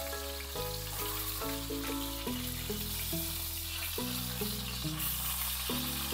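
Pork shoulder fries in a pan, a steady close hiss and sizzle running continuously beneath loud background music.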